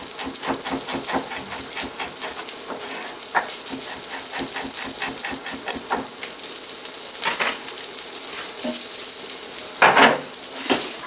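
Shallots sizzle in nutty browned butter in a pan for nettle lasagna, a loud, dense, continuous frying hiss with rapid crackling and a few sharper spits, close up and with no voice.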